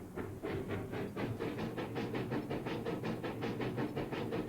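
A freight train in the Railroad Corporation 2 simulation chugs along with a steady, rapid rhythmic puffing and clacking, evenly loud and continuous with no voices.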